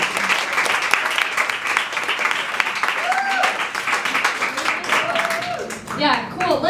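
An audience applauds two speakers at the close of a talk on climbing, character and community: steady dense clapping fills the room, with brief cheers and a voice speaking over it near the end.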